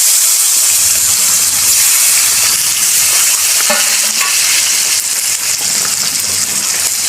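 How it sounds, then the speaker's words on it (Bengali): Chopped tomato with Kashmiri chilli, salt and spices frying in a pan, a steady loud sizzle and hiss running throughout with occasional stirring scrapes, no voices. "ভালো করে আমি এটা ভেজে নেব।"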